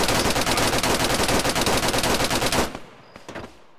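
Sustained automatic gunfire in Arma 3, a rapid continuous burst for over two and a half seconds, loud and close, cutting off to a few faint scattered shots and quiet afterward.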